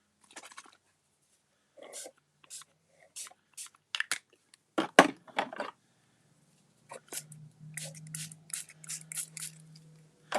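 A handheld bottle sprays shimmer ink onto a card in a series of short, sharp hissing bursts, some isolated and others in quick clusters, close and fairly quiet.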